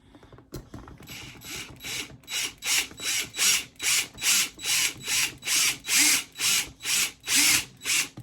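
A power drill drives ice studs into a shoe in a long series of short, rhythmic bursts, about a dozen pulses in quick succession, loud and close.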